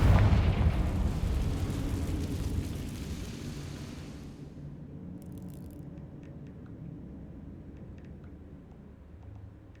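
A Confringo blasting spell goes off in Hogwarts Legacy as a loud, broad explosion that rumbles for about four seconds and then fades into a lower, quieter tail.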